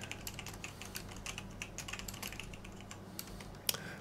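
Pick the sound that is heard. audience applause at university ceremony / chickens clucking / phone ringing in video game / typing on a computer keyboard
typing on a computer keyboard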